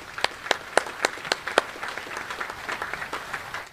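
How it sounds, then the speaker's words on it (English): An audience at a U.S. Army Contracting Command change of command ceremony claps in a burst of applause, sharp individual claps at first, then thinning into softer, scattered clapping. "So please give me a round, give Command Sergeant Major Harris a round"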